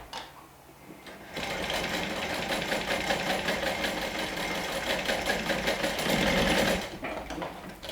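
A sewing machine stitches a bag connector to its lining and main fabric at a half-inch seam allowance, running in one continuous, fast, rattling burst for about five seconds after a brief quiet start.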